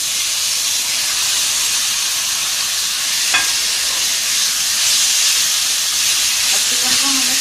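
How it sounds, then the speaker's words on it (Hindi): Chicken hits a pan of sautéed onions for a chicken lasagna, producing a steady, fairly loud hiss and sizzle that holds evenly with one faint clink partway through and no voices. "अब इसमें हम ये चिकन ऐड कर देते हैं।"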